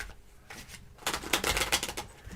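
Tarot Gothica deck being shuffled by hand, a quiet rustle for the first second that swells into a dense, loud burst of riffling card flutter, close by and without talk.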